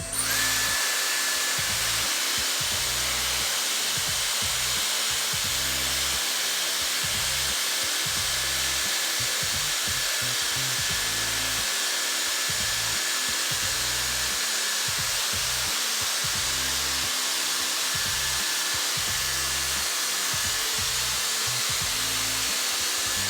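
A Dyson Airstrait hair straightener blows air steadily through hair in a continuous, loud, close-up whoosh that runs without a break for the whole stretch.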